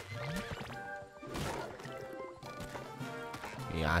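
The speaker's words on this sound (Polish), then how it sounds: "Ten koń naprawdę jest szybki." A horse neighs and gallops in the SpongeBob SquarePants: The Cosmic Shake video game, with whinnies and rhythmic hoofbeats alongside splashy water sounds over a few seconds.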